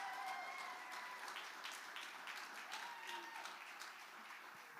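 A crowd applauds at a benefit concert, a soft, distant wash of clapping that holds steady and fades slightly toward the end.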